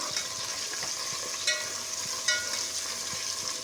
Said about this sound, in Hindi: चिकन को हम डाल के थोड़ी देर चला फिराएंगे इसके अंदर